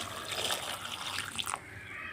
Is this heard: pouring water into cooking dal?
yes